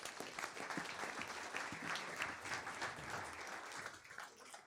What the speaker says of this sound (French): Je crois qu'on peut les applaudir à nouveau.